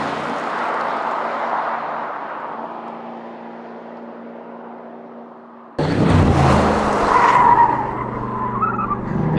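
An Aston Martin Vantage engine drones and fades, then cuts to loud revving with tires squealing as it corners hard on a race track.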